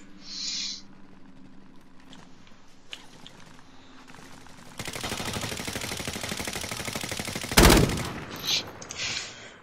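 Call of Duty Warzone gameplay erupts into sustained rapid gunfire partway through, with a sharp louder shot near the end, after quieter in-game rumbles and mechanical sounds.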